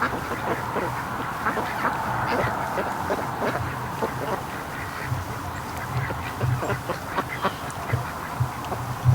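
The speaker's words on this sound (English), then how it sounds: "We got some Muscovies coming over. A bunch of Muscovies coming over," A flock of Muscovy ducks calls nearby outdoors, with repeated low quacks and hissing honks scattered through steady ambient noise, while a person talks intermittently.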